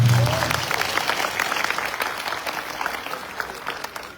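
An audience at a Saket mahayagya religious gathering applauds the sound engineer and cameraman, a steady wash of many hands clapping that starts loud and slowly thins over a few seconds, with no talk over it.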